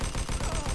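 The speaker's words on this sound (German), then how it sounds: "Sauberer Schuss." Rapid bursts of gunfire in Mafia 2, several sharp shots in quick succession over a dense background rumble.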